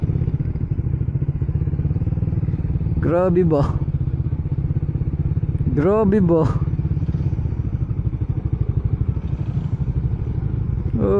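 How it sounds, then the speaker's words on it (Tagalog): A crowd of motorcycles idling and moving together while boarding a ferry during a Holy Week ride in Marinduque, a steady close engine drone throughout with a voice briefly speaking over it twice. "ang daming motor na sasakay"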